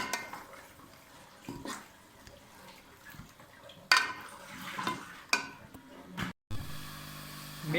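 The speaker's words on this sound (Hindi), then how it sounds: "मेथी डालने के बाद अब इसमें चम्मच हिलाना है, ज़रा सही तरीके से चम्मच।" A spoon scrapes and clinks against a cooking pot while fenugreek curry with potatoes is stirred, irregular metallic knocks and scraping over a soft sizzle, close by.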